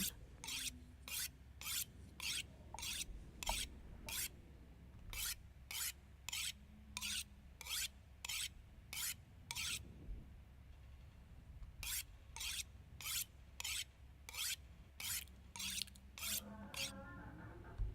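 A hatchet is sharpened in the video game The Long Dark, heard as a crisp, close sequence of evenly spaced rasping file strokes in two long runs with a short gap between them.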